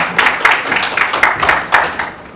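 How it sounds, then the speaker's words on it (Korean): An audience at a National Assembly forum gives a short round of applause, quick rhythmic clapping with a few louder bursts, heard clearly and without talk. "박수 부탁드리겠습니다."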